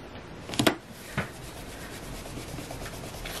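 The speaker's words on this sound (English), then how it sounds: "and rub the back of it to transfer it" The back of a stamped plastic sheet is rubbed to transfer ink while making a card, producing a soft, steady scratchy rubbing close up, with a couple of sharper strokes early on and no talk.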